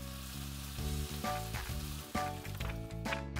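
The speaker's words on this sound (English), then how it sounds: "Now, Mummy teaches Ollie how to use the frying pan safely." Pancakes sizzle steadily in a hot frying pan, a loud crackling hiss with occasional soft scraping or stirring sounds.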